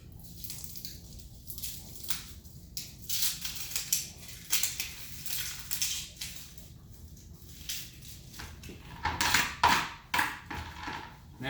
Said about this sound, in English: Now you just gotta kind of peel the skin back.